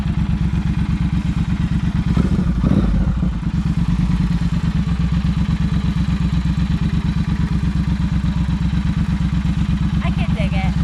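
Triumph Speed Twin motorcycle engine idling loudly up close, a steady rapid pulsing thump with a brief clattery surge partway through, while speech is faintly mixed in.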